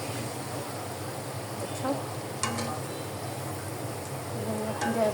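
Food frying in a pan gives a steady, soft sizzle with faint stirring clicks, while a voice briefly speaks over it.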